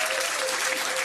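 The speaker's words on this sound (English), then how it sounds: "Give them a round of applause." A quiz night audience at The Granta applauds the fastest team, a steady wash of clapping throughout the brief moment with no voices over it.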